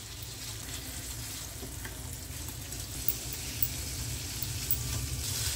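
Paneer frying in butter in a pan on a low flame gives a steady, soft sizzle and crackle, close and even, with faint stirring and no voices.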